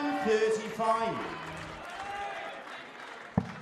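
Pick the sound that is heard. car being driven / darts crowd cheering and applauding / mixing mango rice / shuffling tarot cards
darts crowd cheering and applauding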